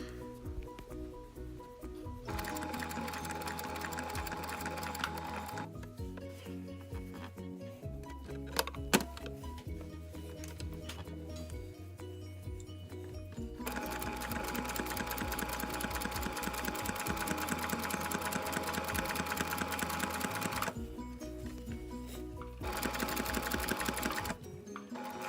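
A sewing machine stitches along a magnetic seam guide while sewing a Butterick 6465 pattern, its steady motor whir running in long continuous stretches broken by brief pauses, close and alone without talk.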